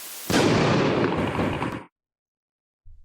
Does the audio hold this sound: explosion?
yes